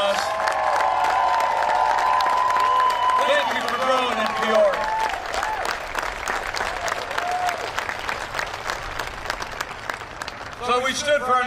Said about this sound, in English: Can we give Jason and Jane a big round of applause?